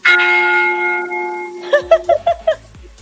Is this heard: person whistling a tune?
no